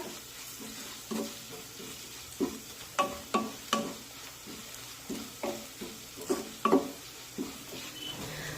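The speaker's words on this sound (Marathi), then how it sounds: "आता हे सर्व मसाले कांद्यासोबत परतून घेऊया" Spices sauté with onions in a pan, a low soft sizzle under repeated sharp scrapes and taps of a spoon against the pan coming in irregular bursts, close and fairly quiet.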